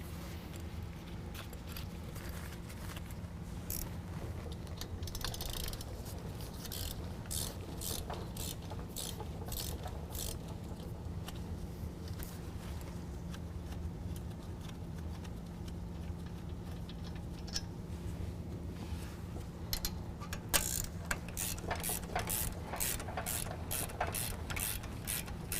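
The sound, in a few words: ratchet removing 16mm brake caliper bolts, 2017 Ford F-250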